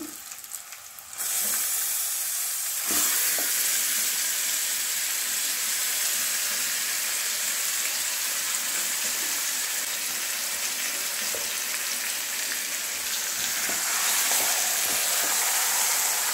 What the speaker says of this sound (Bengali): এবার চিকেনটা আস্তে করে দিয়ে দেবো প্যানে।